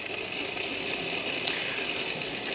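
Water gushes steadily through an opened valve on a KHS Hygiene Flush Box, a constant broadband hiss of flowing liquid with one brief sharper splash partway through.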